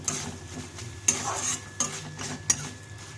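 Pointed gourd peel with poppy seed paste frying in a pan, a low continuous sizzle punctuated by three crisp scrapes of a spatula against the metal at regular intervals.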